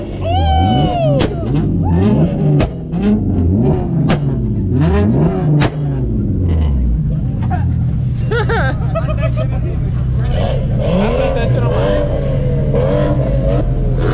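Car engines rev and race at a Houston car meet, including a V8-swapped Kia doing a burnout, with repeated rising and falling throttle bursts amid loud crowd chatter and people talking nearby throughout.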